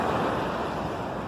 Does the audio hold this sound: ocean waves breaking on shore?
yes